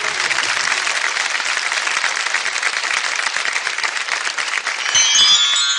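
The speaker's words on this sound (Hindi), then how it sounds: "जोरदार तालियों के साथ अभिनंदन" A studio audience at a televised singing competition breaks into loud, sustained clapping to welcome a singer, the dense applause holding steady throughout, with a bright chiming tone entering near the end.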